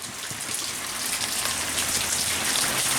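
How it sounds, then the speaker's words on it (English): Heavy rain pours down steadily outdoors beside a smoker grill cooking prime rib, a dense, continuous hiss of drops drumming on surfaces, close and loud. "it's crazy raining here."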